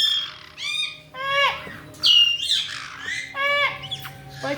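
A pet parrot lets out several loud, harsh squawks in short bursts with brief gaps between them, close by, with faint low background sound underneath.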